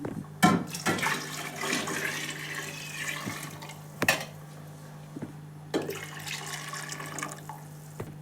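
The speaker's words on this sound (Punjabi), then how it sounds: "ਡੇਢ ਗੜਬੀ ਆਪਾਂ ਇਹਦੇ ਵਿੱਚ ਪਾਣੀ ਪਾ ਦੇਵਾਂਗੇ" Water is poured into kadhi pakora batter made with gram flour and lassi, a steady splashing pour with a few sharp knocks and clatters from the vessel in between.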